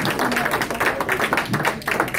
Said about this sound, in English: Please give a round of applause for Robin Hvidston and the Remembrance Project